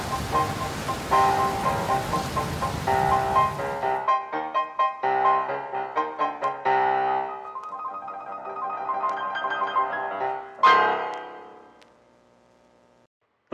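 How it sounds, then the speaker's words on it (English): Rain falls at night around 3 a.m., a dense steady hiss for the first four seconds before it gives way to music with no rain audible. "I can expect that this rain will stop"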